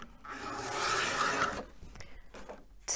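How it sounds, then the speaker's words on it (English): A paper trimmer blade is drawn down through card stock in one close, rasping slide lasting about a second and a half, followed by quieter scraping and handling noises. "Just bring my blade down to the bottom of my trimmer"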